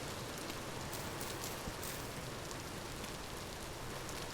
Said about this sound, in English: it just rains. It just always rains.